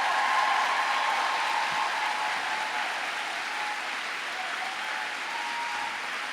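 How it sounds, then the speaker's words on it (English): A large audience at a gun safety advocacy gathering applauds in a steady, dense round of clapping that holds at an even level throughout, with no voices over it. "So let's give Brenda another big round of applause."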